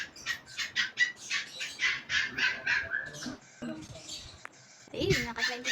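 A dog barks in a rapid run of yips and barks, fairly close, with people talking over and around it indoors.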